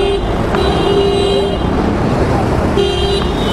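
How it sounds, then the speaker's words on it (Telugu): Vehicle horns honk repeatedly in busy road traffic, several loud tonal blasts at the start and again near the end, heard from close range over a constant roar of engines and traffic noise. "ఎందుకంత హారన్లు కొడతారా బాబు?"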